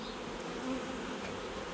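A colony of honeybees buzzes during a hive inspection using a smoker: a steady, dense, droning hum that fills the whole stretch, with no voices over it.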